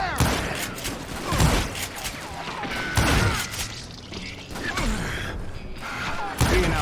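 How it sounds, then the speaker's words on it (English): Gunfire in the Western shooter video game Call of Juarez: Gunslinger, with repeated loud shots and crackling impacts in rapid bursts, punctuated by heavier thumps, continuing throughout at close range. "Who's shooting at us?"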